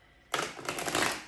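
A deck of tarot cards shuffled by hand, beginning suddenly with a quick riffling flutter of card edges that runs for about a second, close and alone.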